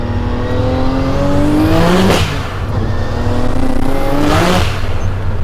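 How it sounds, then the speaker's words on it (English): A loud 1000 hp twin-turbo Nissan 300ZX engine revs hard, climbing in pitch twice with a brief drop between, a throaty continuous roar close by. "when you drop a gear and you get up there in the revs and you jump on boost"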